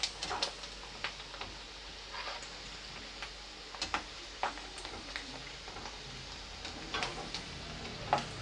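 Curry leaves crackling in hot oil with Gobi Manchurian, a close sizzle punctuated by sharp pops and ticking spoon strokes against the pan at irregular intervals, with no voices.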